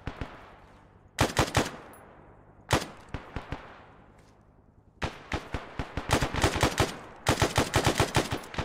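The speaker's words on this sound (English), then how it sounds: "God, I love this fucking gun, dude. The FAL, the L1A1 SLR." L1A1 SLR (FAL) rifle fire in the Arma video game rings out as sharp, loud shots, some single and some in quick clusters, each with a ringing decay, growing denser toward the end.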